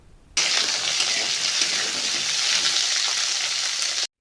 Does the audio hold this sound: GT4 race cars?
no